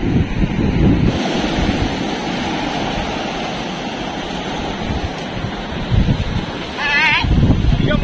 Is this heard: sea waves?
yes